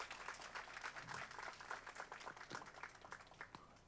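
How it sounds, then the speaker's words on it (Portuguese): At the opening of a global meeting on sustainable finance and fiscal instruments, a large audience gives dense, continuous applause, heard from a distance and fading slightly toward the end. "uma salva de palmas"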